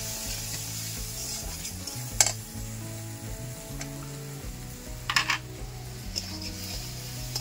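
Chopped tomato and spice masala fry in oil for a Bengali koi fish curry, giving a steady soft sizzle close by, broken by occasional scrapes and clinks of a spoon stirring in the pan.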